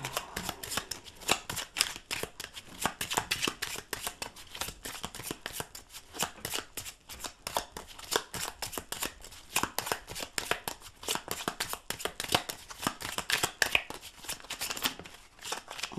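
Tarot cards are shuffled continuously for a weekly card reading, a dense, rapid riffling and flicking of cards that runs close and steady without pause, with no talking over it.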